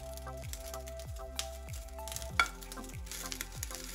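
Turmeric sizzling in warm oil in a pan while the filling for wheat momos starts, a steady close crackle with soft repeated stirring scrapes and low pan hum beneath.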